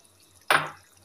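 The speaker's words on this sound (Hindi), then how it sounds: "सा पानी डाल दूंगी मैं," Water added to a pan of frying masala goat liver, giving one sudden loud splash and sizzle that fades over about half a second, alone without speech.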